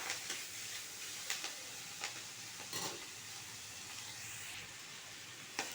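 Ponnanganni keerai greens fry in a pan with salt sprinkled over them, a steady soft sizzle broken by occasional stirring scrapes and clicks, heard up close with no talking.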